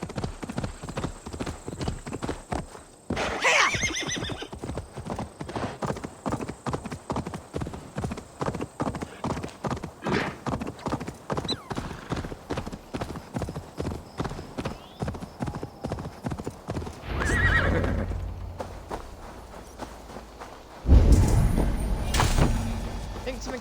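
Steady clip-clop of a horse at a trot in Assassin's Creed Valhalla, a rhythmic hoof patter running nearly the whole time, broken by a couple of louder thumps and rustles near the end.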